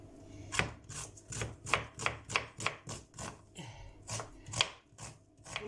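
Fast, rhythmic knife chops through an onion strike a cutting board in a quick series of crisp taps, close and fairly quiet.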